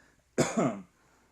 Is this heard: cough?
yes